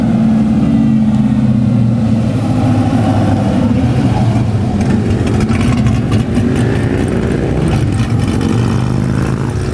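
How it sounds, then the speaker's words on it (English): A Chevrolet Camaro on a mountain road, its engine rumbling loud and close with a low steady drone and some revving as it goes by, with no talk. "There's our buddy Josh in the Camaro now."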